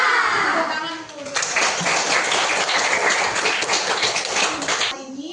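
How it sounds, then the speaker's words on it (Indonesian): An Indonesian primary school class claps hands together, a dense burst of steady applause-like clapping that follows a short spoken instruction and lasts several seconds before fading into voices. "Tepuk tangan dulu."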